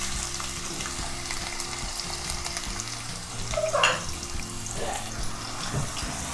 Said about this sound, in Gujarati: કઢાઈમાં મેં તેલ ગરમ કરી લીધું છે, તેમાં આપણે ડુંગળી નાખીશું।